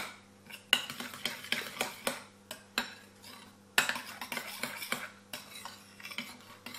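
A spoon scrapes and clinks against a pot while mushrooms are stirred into a tomato sauce, a run of close, irregular metallic strokes with short pauses and no talk.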